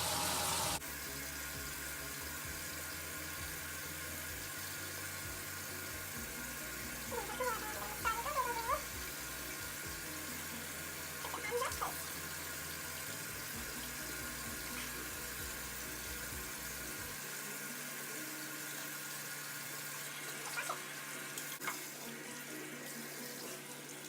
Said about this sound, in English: Let the warm water come out a little bit.